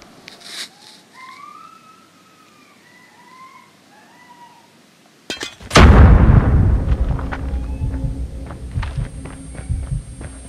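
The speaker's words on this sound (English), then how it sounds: "He threw a grenade at him" A grenade goes off in a Call of Duty Mobile match, a sudden loud blast about halfway through after quiet game ambience and whistling tones, followed by a rumbling tail and scattered clicks.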